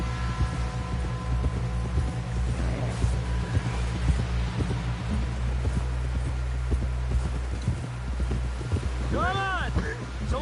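Horse hooves clip-clop at a steady trotting rhythm in a video game, close and moderately loud over wind and a low hum, with voices heard briefly in the background.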